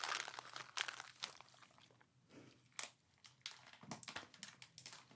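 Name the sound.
crunching chocolate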